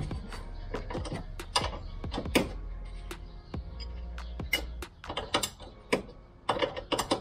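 A 17 mm wrench ratchets and clanks while loosening the locking screw on a stabilizer bar link of a 2000 Toyota Celica, giving irregular close metallic clicks and knocks over a low steady rumble.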